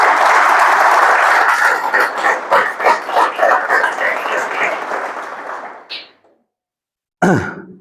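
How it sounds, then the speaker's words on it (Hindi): Loud applause from an audience at a magnetic therapy kit talk, strong and sustained before fading out; after a brief silence, a short burst of voice or noise follows. "तो एक बार जोरदार तालियां हो जाए"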